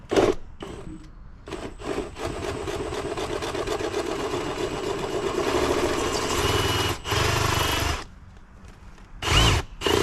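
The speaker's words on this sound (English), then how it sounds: "make a hole big enough here with a hole saw for the 3/4 inch LB" A hole saw cuts through a wall for a 3/4 inch LB fitting during outdoor hot tub wiring, with a loud sustained grinding drill run broken by short starts and stops and a final brief burst.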